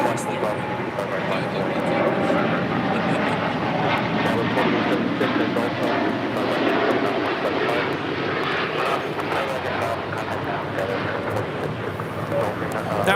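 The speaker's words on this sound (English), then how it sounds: "That was United 231 taking off to London Heathrow, a 787-9 Dreamliner." A United Boeing 787-9 Dreamliner roars down the runway at LAX on takeoff, a loud, steady broadband engine thunder filling the whole stretch with no break.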